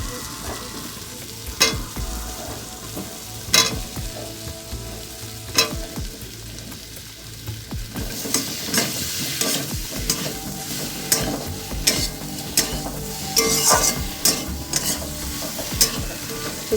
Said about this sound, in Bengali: এখন আমি যে ভাজা আলুটা রেখেছি এখানে সেটাগুলো দিয়ে দেবো এতে